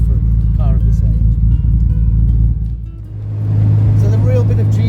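A 1958 Aston Martin DB Mark III engine hums steadily at town speed near a junction, a low continuous drone that dips briefly then swells again as the car pulls away, with someone talking over it.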